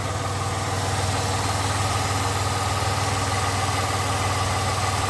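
A 2011 Ford Escape 3.0 V6 idles steadily after a tune-up and intake gasket repair, a constant low engine hum and vibration running unbroken throughout, with no one speaking.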